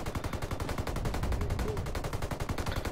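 Rapid automatic gunfire from a Ghost Recon Wildlands PvP match, a loud, dense burst of shots sustained for the whole stretch with no pauses.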